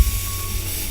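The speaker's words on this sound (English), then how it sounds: "Here, they use Coca-Cola together with hot iron." A brief hissing sizzle as Coca-Cola hits a hot iron, used as foley for alien blood; a single close, noisy burst lasting under a second.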